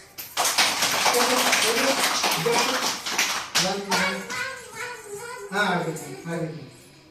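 Children in a classroom clap together in a fast, sustained round of applause that fades out, with children's voices and an adult talking over and after it.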